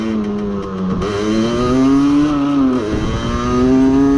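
A 2019 Sherco 50cc motorcycle pulls away in first gear, its small engine buzzing loudly up through rising revs, dipping briefly, then climbing again close by, with no voices.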